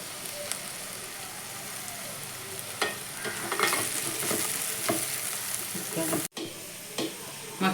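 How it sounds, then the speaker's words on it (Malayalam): Crushed chicken sizzles steadily in a pan as it is stirred, with scraping strokes recurring at intervals. The frying is close and moderately loud, with a brief dropout near the end. "മിക്സിയിൽ നമ്മൾ ക്രഷ് ചെയ്ത് വെച്ച ചിക്കൻ ഇടുക."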